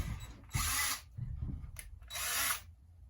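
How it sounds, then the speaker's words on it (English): A power drill pre-drilling boards for screwing into a frame whirs in two short bursts separated by quieter handling noises, close by and fairly loud. "so I'm going to pre-drill and screw in each board into my frame."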